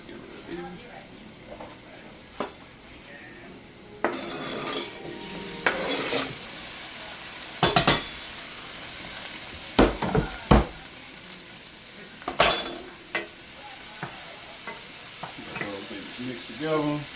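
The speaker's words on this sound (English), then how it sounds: "So I'm gonna go ahead and add our tomatoes over in." Tomatoes dropped into a hot frying pan for a spicy pepper orzo dish, low sizzling under a speaking voice, with several sharp clatters and utensil knocks against the pan.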